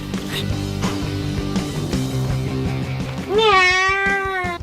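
Minecraft game music plays, then a loud, rising cat meow sounds near the end, sharp and synthetic over the backing track.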